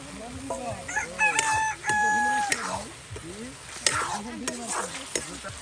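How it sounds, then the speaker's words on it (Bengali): Cut pieces of meat for a village-style meat pasta go into a hot frying pan and sizzle and get stirred, while a rooster crows nearby and voices are heard in the background. "এই যে এখন সেই টুকরো করে নেওয়া মাংসগুলো দিয়ে দেওয়া হচ্ছে।"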